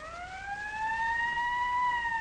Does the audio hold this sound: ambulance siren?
yes